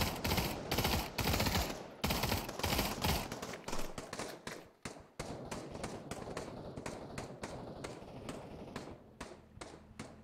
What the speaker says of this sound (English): The guy in the lighthouse is just opening fire on people